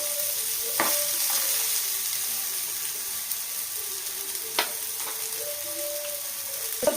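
Steady frying sizzle from a pan while chicken curry cooks, with occasional clinks and stirring scrapes on top, continuous and close, no talk.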